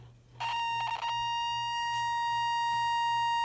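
Elenco Electronic Playground 130 circuit kit sounding a steady high-pitched electronic tone through its small speaker, with two capacitors wired in series, starting after brief crackles and holding continuously.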